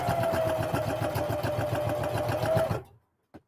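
A sewing machine runs steadily while stitching a fabric wallet, its rapid, even needle chatter close and continuous for almost three seconds before it stops abruptly, followed by a brief faint click.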